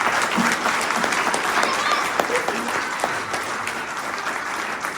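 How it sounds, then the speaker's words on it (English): A crowd at a Chabad synagogue's Night for Israel event gives a big round of applause for a deputy, the dense clapping sustained and fairly loud throughout, with faint voices mixed in. "Let's give him a big round of applause."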